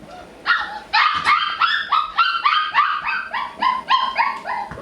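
Puppies in another room yip and bark in rapid, high-pitched bursts, several overlapping calls in quick succession with short whimpering tones, close and fairly loud.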